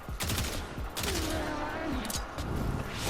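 Tiberon Prime rifle in Warframe firing semi-auto, a rapid run of sharp, loud game gunshots at a close, uneven pace, layered with other combat effects and a tonal sweep, with a voice talking partway through.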